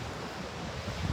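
Rough ocean surf churns continuously at a coastline, a dense broadband wash of crashing waves blended with wind rumble, with no voices.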